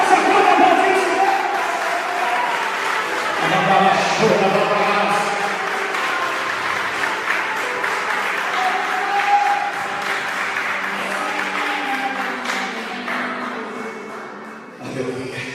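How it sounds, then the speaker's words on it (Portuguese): Church congregation applauding the Lord in a Portuguese-language service, a dense, steady wash of clapping with scattered cheers lasting throughout, with a voice and background tones mixed in. "Será que você pode aplaudir o Senhor?"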